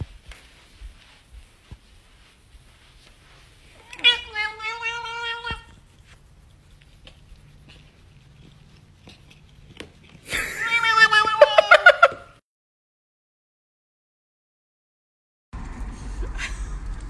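A house cat gives two drawn-out, wavering meows separated by several seconds of quiet, fairly close and clear.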